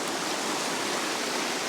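A clear river rushes through a Scottish glen, a loud, dense, unbroken wash of flowing water heard close up with no voices.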